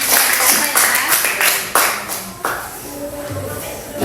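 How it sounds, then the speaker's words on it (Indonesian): Classmates in a school math lesson clap for a student, a short burst of close, uneven hand claps with a few sharp isolated claps tapering off, alongside some shuffling and faint voices. "Tepuk tangan untuk temannya."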